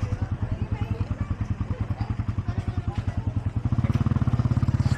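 A motorcycle engine putters steadily nearby in a fast, even rhythm, then revs up slightly louder near the end.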